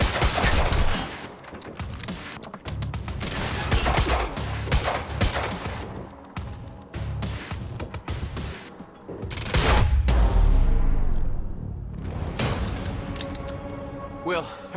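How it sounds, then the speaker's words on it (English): Heavy, loud gunfire from pursuing gunmen in the video game Quantum Break, rapid repeated bursts and thuds, with shouting voices over it. "Stop fucking shooting at us!"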